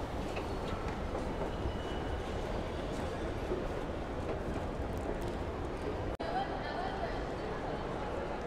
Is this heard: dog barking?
no